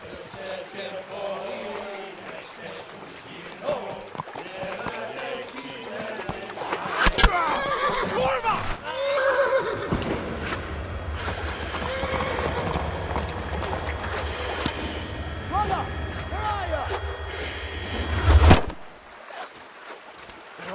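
Horse in the medieval role-playing game Kingdom Come: Deliverance whinnies loudly amid busy game action, followed by a sustained low rumble of hooves galloping for several seconds before cutting off sharply.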